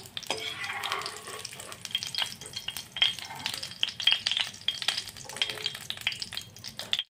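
Potato fritters (aloo bora) fry in hot oil in a kitchen, giving a close, steady sizzle with light stirring and occasional clinks of a utensil against the pan. No voices are heard.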